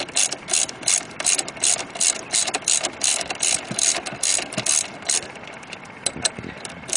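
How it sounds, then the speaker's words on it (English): A hand ratchet loosens the brake caliper bolts on a Ninja H2 motorcycle, giving close, rapid bursts of metallic clicking in uneven runs with short pauses between strokes. "I'm just untorquing them so you can get an easy idea of how easy it is"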